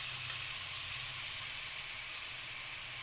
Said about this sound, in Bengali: এবারে এই মাংসটাকে এই তেলের মধ্যে দিয়ে দেব, দিয়ে আমাকে ভালো করে নাড়াতে হবে।